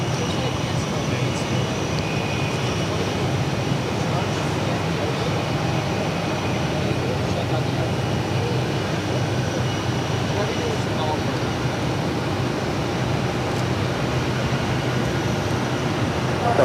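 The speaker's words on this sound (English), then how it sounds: "the Lufthansa A340-600 now rolling down at 22 left" Lufthansa Airbus A340-600 rolling for takeoff on runway 22 left at Boston Logan, a steady, loud broadband jet roar that holds level throughout without a break.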